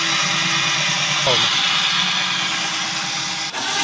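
A power drill bores into a door to fit a handle with a latch, making a steady, loud motor whine that shifts pitch as the bit bites into the wood.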